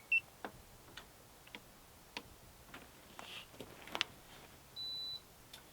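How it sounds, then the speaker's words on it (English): A portable off-grid refrigerator, model F40C4TMP, gives a thin high-pitched electronic beep just after being switched on, heard close and alone near the end among faint ticks and clicks in a quiet room. "You hear that high-pitched beep"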